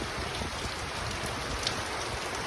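Heavy rain pours down in a dense, continuous hiss, close and loud, with no voices.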